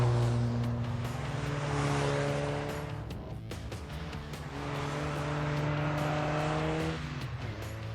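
A car engine revs and drones while drifting on a narrow go-kart track in The Grand Tour game, rising and falling in pitch in two long sweeps, with tyre noise and no speech.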